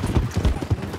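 A horse named Artemis trots in Red Dead Redemption 2, its hooves clip-clopping in a steady, close rhythm of muffled thuds.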